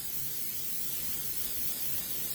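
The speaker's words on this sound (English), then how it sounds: "So you're just going to spray it The back of your ruler." Grippy spray hisses steadily from a can onto the back of a ruler, one continuous, close, loud airy burst with no pauses and no talk.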